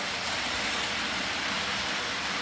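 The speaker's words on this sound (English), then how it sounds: "There's Cam with the choo-choo." A steady, fairly loud whirring rattle of a Lionel O-scale toy train running along its track, continuous with no talking.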